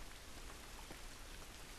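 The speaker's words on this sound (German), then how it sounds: "Dieser Regen ist nicht gut für uns." Rain in The Last of Us makes a soft, constant hiss of drops on surfaces, faint and even throughout with no voices.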